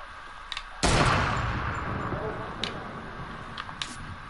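A sniper rifle fires in a video game: one sharp, loud crack followed by a long decaying echo, with fainter distant shots and small clicks scattered around it.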